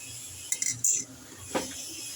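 Cabbage and onion tip into a cooking pot of simmering carrot and papaya with a few clinks and scrapes of a utensil against metal, brief knocks and a short rattle over a quiet background.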